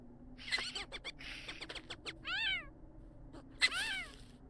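A pet cat in The Sims 4 video game meows twice in clear rising-falling calls, separated by short clicky chirps and small rustling sounds, fairly close and alone without talk.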